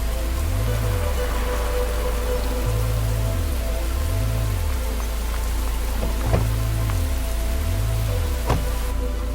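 Steady rain falls across a city at night, a dense, even hiss with a few sharper drop hits, layered over a low, repeating pulsing tone.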